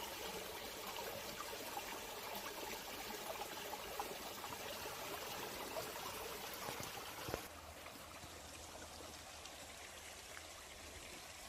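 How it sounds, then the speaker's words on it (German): Gentle babbling of the Ruhr river along a riverside cycle route, a steady close trickle and splash of flowing water that continues evenly throughout, slightly quieter and smoother toward the end, with no talking. "Hört euch das an, das leise Plätschern, ne?"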